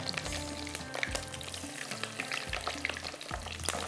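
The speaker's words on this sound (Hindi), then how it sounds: "इसको आपने इस तरह से फ्राई करना है।" Chili chicken pieces deep-fry in very hot oil, giving a dense, continuous, close crackling sizzle with bursts of popping throughout and no talking.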